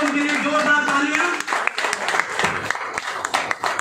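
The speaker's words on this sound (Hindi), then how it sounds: "तो मैं चाहता हूँ उनके लिए जोरदार तालियां।" Loud, lively applause from an audience at a Hindi-language business presentation, dense clapping with a voice talking over the start and a few sharper claps near the end.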